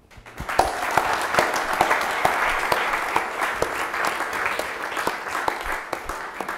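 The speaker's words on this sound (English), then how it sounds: "A big applaud for all of them." Applause from a conference audience for the moderators and lecturers at the close of a NATO panel discussion, a dense burst of clapping that rises quickly and holds steady for several seconds with a few sharper individual claps standing out.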